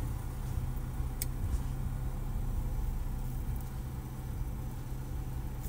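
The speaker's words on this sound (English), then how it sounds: "Now I just started the motor of the car." A car engine idles steadily after being started, a low, even rumble that holds for the whole stretch with no talking.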